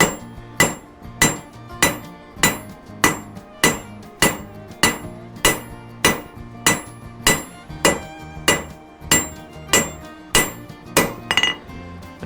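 Sharp, ringing rounding-hammer blows strike hot metal while forging tongs, in a steady rhythm, about one or two per second, loud and close, with a bright metallic clink on each hit.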